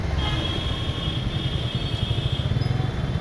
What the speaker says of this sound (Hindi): और इसमें मैं इस बाइक को चला रहा हूँ।